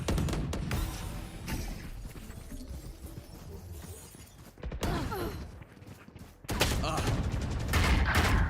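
Rapid gunfire in a tactical shooter game comes in loud clustered bursts broken by quieter gaps, with mechanical clicks and a heavy burst of shots at the end.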